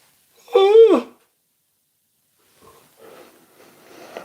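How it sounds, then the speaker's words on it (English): A person lets out a long, drawn-out vocal yawn with a rising and falling moan. It is loud and close, then fades into quiet with faint breathy sounds afterward. "Epic yawn."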